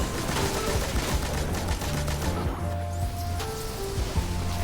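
Machine gun fire in Destiny 2, rapid rattling bursts under dense game effects and tonal music, continuous and fairly close throughout.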